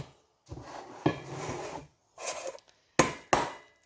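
A spoon scrapes and knocks as cottage pie filling is moved from a pan into tins, giving close clattering scoops, soft wet scraping and a few sharp taps of metal against metal.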